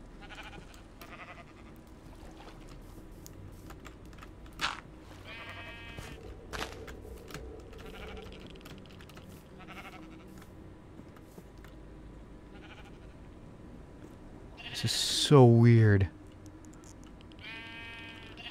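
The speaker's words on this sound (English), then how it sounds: "there'd be three red sheep trapped in it?" Sheep bleating in the video game Minecraft, with a loud bleat near the end rising over quiet ambient game sound and brief clicks, while a voice talks softly beneath.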